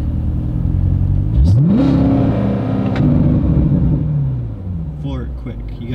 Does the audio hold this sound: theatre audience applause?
no